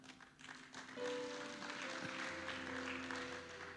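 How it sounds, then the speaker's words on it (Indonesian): Church congregation clapping during a worship service, a dense wash of applause that swells and holds, slightly distant and fairly quiet, with faint sustained music tones underneath. "Sekali lagi tepuk tangan yang meriah untuk Tuhan kita Yesus Kristus."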